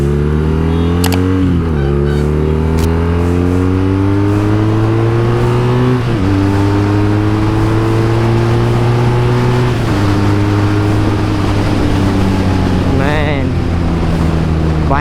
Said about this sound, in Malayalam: ഇത് ഞാൻ പറഞ്ഞു സ്റ്റോക്ക് അക്രയുടെ എക്സോസ്റ്റാണ് ഇതിന് വെച്ചേക്കണത്. അപ്പോൾ അതിൻ്റെ ആ ഒരു സൗണ്ട് നിങ്ങൾക്ക് കേൾക്കാൻ പറ്റും.